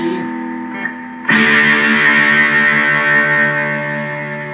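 Electric guitar with effects picks a quieter E, then hits a loud D that rings out and sustains heavily with echo and chorus shimmer, close and with no talking.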